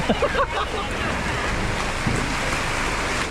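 Floodwater after a full day of rain rushes in a steady broadband wash, like surf, with wind buffeting the microphone; a few voices talk briefly at the start.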